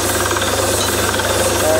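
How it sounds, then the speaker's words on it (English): A drilling rig bores into lake sediment at Tso Moriri, a high-altitude lake in Ladakh, giving a loud, continuous mechanical pounding with a steady rapid rhythm and a low engine drone beneath it. "and still drilling is going on."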